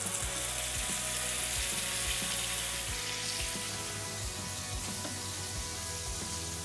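Herb-crusted rack of lamb sears in hot oil with a steady, close sizzle and scattered crackling pops, fairly quiet and without talk.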